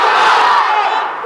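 A large crowd shouts the takbir together as one loud, sustained roar of many voices, filling the space before fading slightly at the end.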